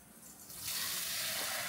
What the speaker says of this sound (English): Harrison and I are going to fill up 5 cups of water here.